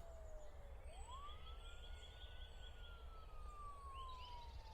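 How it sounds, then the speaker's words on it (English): A police siren in a park-set horror video game wails with a rising then slowly falling tone, heard at a distance over a steady low ambient rumble, with no talk. "I can hear a siren."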